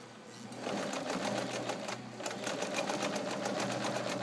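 A restored vintage Kenmore 158.1750 sewing machine stitches a wide zigzag, its motor humming steadily under fast, even needle clatter, close and loud throughout with no voices.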